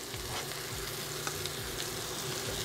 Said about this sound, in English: We're gonna add our butter